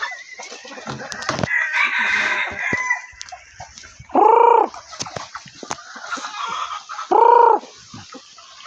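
A rooster clucks and scratches about close by, then lets out two loud crows a few seconds apart, with a person speaking softly in the background.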